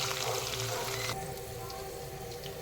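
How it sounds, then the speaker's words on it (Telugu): Onions, green chillies and seasoning seeds sizzle in hot oil, a loud crackling hiss that softens partway through but keeps frying steadily. "వేగుతున్నాయి ఆనియన్స్, మిరపకాయలు, గ్రీన్ చిల్లీస్, పోపు గింజలు"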